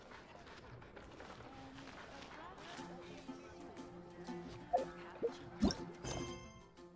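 A dog in a video game gives a few quick yips and barks near the end, fairly faint beneath game music with chiming tones and some talk.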